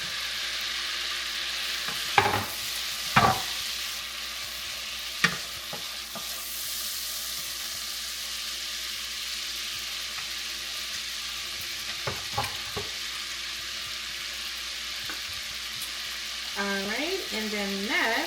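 Diced garlic sizzling in melted butter in a pan, a steady soft crackle running throughout, punctuated by a few sharp spoon knocks and scraping stirs, with a brief murmur of voice near the end.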